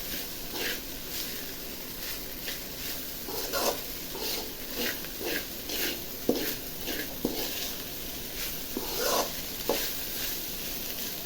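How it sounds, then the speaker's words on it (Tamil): Mushroom fried rice sizzles in a hot kadai while a spatula scrapes and tosses it in repeated strokes, a continuous close frying hiss broken by clinks of metal. "நல்லா சாதம் ஃப்ரை ஆகணும்."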